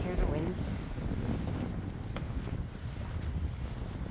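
Strong outdoor wind on a walk in freezing weather buffets the microphone with a steady, loud, low roaring rush that never lets up, dense and close with no clear voice over it.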